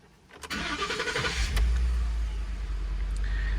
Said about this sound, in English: first thing we're going to do is start the truck